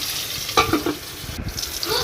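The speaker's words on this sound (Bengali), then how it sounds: "পটল আলু দেওয়ার পর এবার এগুলো ভাজা ভাজা করে নেব" Pointed gourd and potato pieces sizzle and crackle as they fry in a pan, a steady hissing bed with a few louder bursts as they are stirred.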